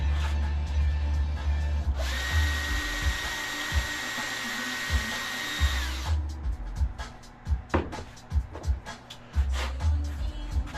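A heater blower roars with a steady whooshing hum for several seconds inside a bait shop, then cuts off, followed by clunks and tapping sounds nearby.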